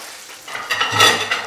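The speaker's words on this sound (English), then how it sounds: "Here we go, skin side down. Hold the fish down in the pan, otherwise it curls up." Mackerel fillets are laid skin side down in a hot pan. After a brief quiet moment, a close, bright sizzle swells up and holds steady.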